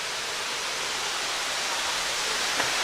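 A waterfall at McConnell's Mill State Park, in the Hell's Hollow area, makes a steady, dense rush of falling water that stays even and unbroken throughout, with no talking over it.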